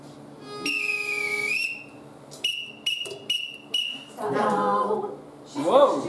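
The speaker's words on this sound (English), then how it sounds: "She's gonna do that whistle thing?" A person whistles during a music rehearsal: one long sliding tone, then several short sharp blasts in quick succession. Talk and laughter follow.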